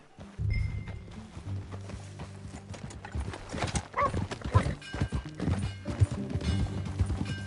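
Clip-clop of horse hooves in the Red Dead Redemption 2 video game, a steady trotting rhythm close by with an occasional whinny, set against low game ambience and faint background music.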